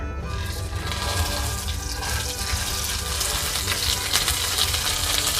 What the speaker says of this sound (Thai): น้ำมันเราเริ่มร้อนนะคะ ใส่พริกแกงลงไปผัดได้เลยค่ะ